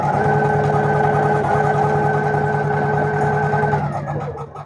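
A single-needle embroidery machine stitches a design onto a small hoodie with a loud, fast, steady mechanical whirr and a constant tonal hum, then slows and stops near the end.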